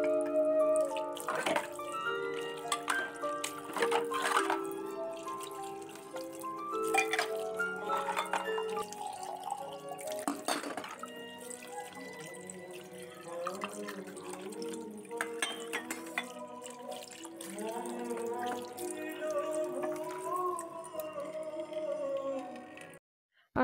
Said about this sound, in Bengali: নাহলে এবার বেসিনে গিয়ে ধোবো